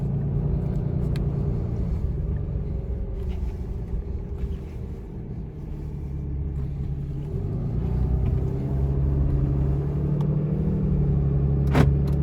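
A car heading home after a hike gives a steady, low engine and road rumble throughout, fairly close and even, with no voices.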